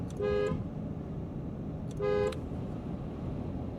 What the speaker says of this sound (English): What noise will they hear from the horn?